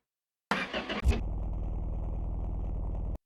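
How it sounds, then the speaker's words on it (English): In the game My Garage, a truck engine cranks briefly and then settles into a steady, loud, rough mechanical drone with an odd repetitive chug. "the truck started making a strange noise"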